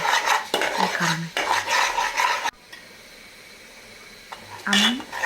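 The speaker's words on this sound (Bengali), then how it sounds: "অনবরত নাড়তে হবে ক্যারামেলটি" Caramel being stirred in a pan for caramel tea, with scraping bursts of a utensil against the pan, then a quieter pause before more stirring.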